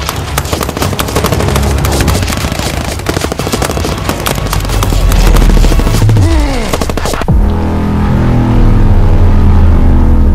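Soldiers open fire on command in a loud, sustained fusillade of automatic weapons, rapid continuous bursts close by, then a sudden cut to lower rumbling tones.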